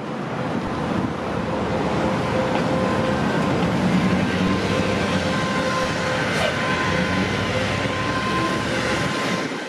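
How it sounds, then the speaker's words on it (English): A train rolling along urban railway tracks in Compton: a loud, steady, continuous rumble and roar holding evenly throughout, with a faint high squeal, and no speech. "Metro rail or the train."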